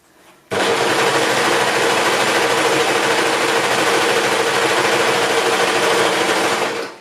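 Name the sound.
serger (overlock machine) trimming fabric edge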